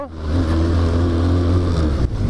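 A steady SMC Barossa quad bike engine hums and revs continuously at close range, loud and even throughout, with no voices.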